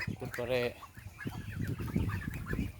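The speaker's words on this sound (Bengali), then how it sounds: "পুকুরের ভিতরে মুরগির খামার।" Chickens at a poultry farm built over a pond, clucking close by in short bursts with one clear drawn-out call, over a soft background murmur.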